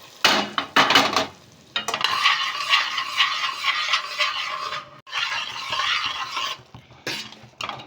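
Fried cashews and raisins being stirred into nolen gur rice payesh, a spoon scraping and clattering against the pot with a soft bubbling underneath, steady and close for several seconds with brief pauses.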